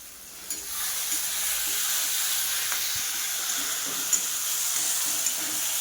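Masala spices stir-frying in a pan for a pointed gourd and shrimp curry, giving a steady close sizzle and hiss with a few soft scrapes and knocks from the spoon, and no voices.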